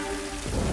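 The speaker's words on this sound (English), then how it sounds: "It's raining!" Dense rain hissing across surfaces, a broad steady wash of falling water that grows heavier toward the end.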